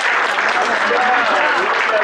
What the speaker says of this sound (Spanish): Le damos al Señor un aplauso.